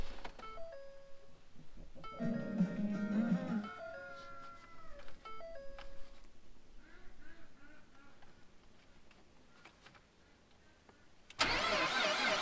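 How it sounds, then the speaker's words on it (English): A pickup truck's engine cranks and catches on a below-zero winter morning, settling into a steady, fairly loud idle close by, ending with a sudden burst of broadband noise. "let's go see if this truck wants to start"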